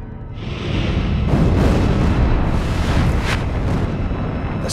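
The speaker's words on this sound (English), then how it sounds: "The sound of explosions seemed to go on forever." A loud, sustained roar of explosions and rumbling blasts, continuous and booming with no clear breaks.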